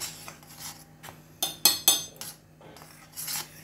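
A very small spoon clinks and scrapes against a container while herbal tea is being made, with several quick metallic taps and rattles at close range, no one speaking.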